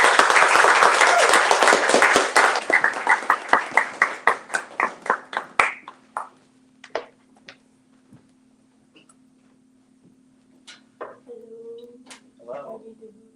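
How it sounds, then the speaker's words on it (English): Audience applause for a poet at a poetry reading, loud, close clapping that slows and thins into scattered individual claps over several seconds, leaving a quiet room with a brief murmur near the end. "Please give a round of applause to Nicole Brunette."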